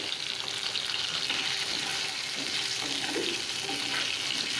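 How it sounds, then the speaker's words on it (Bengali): Cut potatoes frying in a little oil with salt and turmeric in a wok, a steady close sizzle with light stirring noises and no talking. "কড়াইতে আবার একটু তেল দিয়ে কেটে রাখা আলুগুলো এখন লবণ ও হলুদ দিয়ে অল্প অল্প ভেজে নেব"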